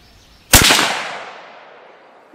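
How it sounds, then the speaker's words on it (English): A single loud, close 6.5 Creedmoor rifle shot fired with Norma Whitetail ammunition at a 100-yard range, a sharp crack followed by a long decaying echo tail. "Let's take a second shot."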